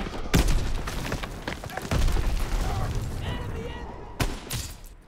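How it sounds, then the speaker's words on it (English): Rapid bursts of gunfire and booming impacts from the video game Call of Duty: WWII crackle throughout, loud and close, with a voice talking briefly amid the shooting. "Gunfire! We must be near our guys."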